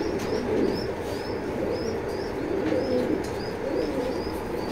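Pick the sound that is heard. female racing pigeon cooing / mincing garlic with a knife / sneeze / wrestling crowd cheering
female racing pigeon cooing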